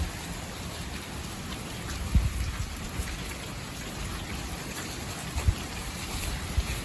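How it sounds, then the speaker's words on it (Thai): Steady rain patters on a surface, a constant hiss with a few louder drips now and then. "ไปไกลไม่ได้ฝนตกค่ะ"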